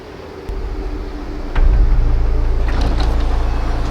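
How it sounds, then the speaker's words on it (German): A city bus pulls in at a German stop: a low engine rumble swells and grows close and loud, with a brief hiss and clatter as it arrives. "perfekt, da kommt direkt ein Bus."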